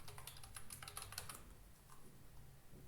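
Rapid typing on a computer keyboard while entering an Aadhaar number into an online form, a close, busy burst of key clicks that thins out and trails off into quieter sparse taps.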